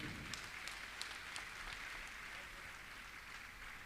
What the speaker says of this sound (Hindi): आपकी तालियां बहुत कम बज रही हैं।